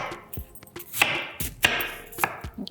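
A knife chops through pear on a cutting board with about four crisp, close, evenly spaced strikes, each a sharp thud with a bright crack.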